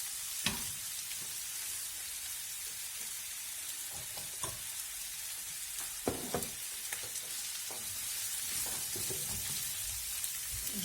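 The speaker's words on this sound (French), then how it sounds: "Là je vais rissoler mes oignons et mon poivron rouge" Onions and red pepper sizzle steadily in a pan for a homemade tacos filling, a continuous hiss broken by scattered stirring clicks and scrapes, close and moderately loud with no talking.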